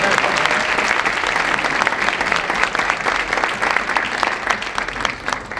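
Sustained audience applause at a ribbon cutting ceremony for a Humboldt Park Health wellness center, dense steady clapping from a crowd that continues loudly throughout.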